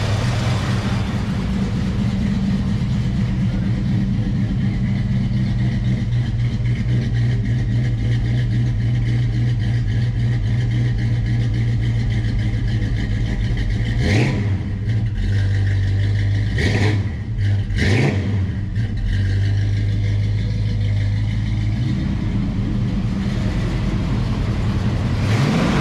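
A car engine fitted with an Edelbrock 600 carburetor runs at a steady, loud idle with a deep, even drone. It dips briefly a few times midway, then settles back into its continuous hum.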